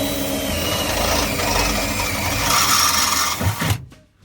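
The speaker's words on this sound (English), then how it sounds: "drilling the holes" A power drill bores holes during work on a 1991 Dodge camper van, a continuous close whirring grind that rises near the end and then stops abruptly.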